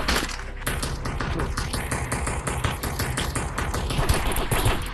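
Rapid cracking gunfire from a video game match of Animal Rivals, a dense stream of sharp shots fired in quick succession throughout.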